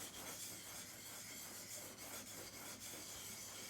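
Blade rubbed back and forth on a 400 grit sharpening stone, a faint, steady rasping scrape in repeated strokes, close and alone without talk.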